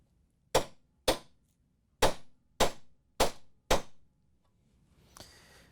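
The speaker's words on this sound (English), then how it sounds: "put a little punch mark so the drill doesn't wander around" Six sharp metallic taps of a hammer on a center punch, marking a spot on metal before drilling during a GE ice dispenser motor repair, evenly spaced and close, followed by a brief faint scrape.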